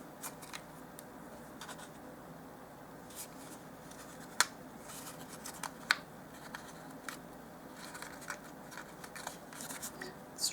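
Small scissors snip through material to cut out a dollhouse miniature flyswatter, giving faint, sparse clicks and snips over quiet room noise, with a couple of sharper cuts standing out.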